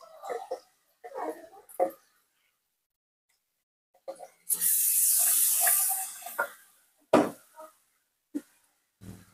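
Blended onion hits hot oil in a pan for sambal, a loud sizzling hiss lasting about two seconds mid-clip, surrounded by brief clatters and short bursts of a woman's speech.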